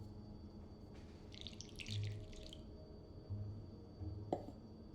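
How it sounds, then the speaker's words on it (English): A cup of wet plaster is poured into a mold: a faint, soft, splashy pour lasting about a second, followed by a small tap in an otherwise quiet room. "Just pour the cup of plaster into the mold."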